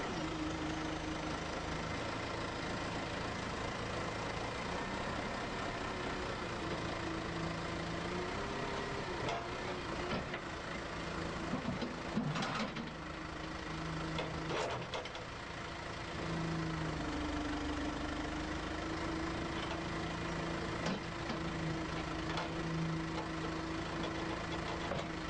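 A digger loader's engine idles steadily while warming up, a quiet, continuous mid-pitched drone with a few faint clunks and slight shifts in tone.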